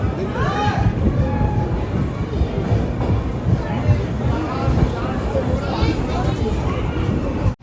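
Steady rumble and rattle of the Millennium Express sleeper coach running at 130 km/h, with passengers chattering throughout.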